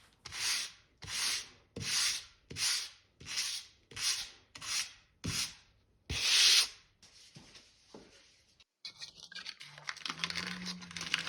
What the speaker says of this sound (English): You can see how you can simply sand it away.